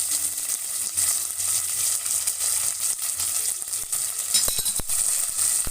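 Dry chili, curry leaves, onion and green chilies sizzle in hot oil in a pan, a steady close hiss with crackles and a few sharp stirring scrapes near the end, no voices.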